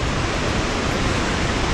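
Rushing water of the Loelva River near Loen, Norway, a constant broad roar close by, loud and unbroken with no voices.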